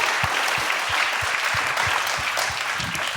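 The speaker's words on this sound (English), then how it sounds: "I think that deserves a round of applause." An audience at a summit awards ceremony applauds the winners, a dense, loud wash of clapping with a few low thumps, continuous and close for the whole stretch.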